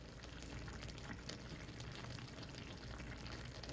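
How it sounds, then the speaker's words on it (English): Chicken simmering in salsa in a pan, a soft, steady bubbling and faint sizzle that continues evenly throughout, quiet and close. "these have been simmering for about 15 minutes"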